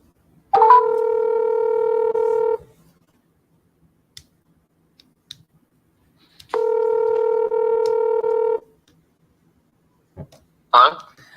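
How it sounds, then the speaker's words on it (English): Two long steady dial tones on a telephone line, each about two seconds, separated by a quiet gap with faint clicks, then a brief burst of a voice answering at the end. "We're going to try dialing that one again."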